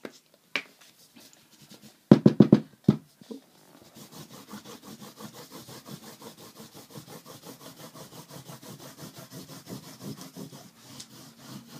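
A rhythmic rubbing of shimmer ink across embossed cardstock sets up repeated scratchy strokes at a steady back-and-forth pace, preceded by a few sharp handling taps and clatters; close and fairly quiet.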